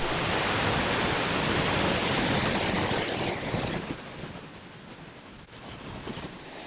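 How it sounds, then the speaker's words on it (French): Steady broadband wash of rain falling at Yellowstone near a waterfall, a dense continuous hiss that eases slightly partway through, with no voices. "il pleut, mais bon, il en faut aussi de temps en temps."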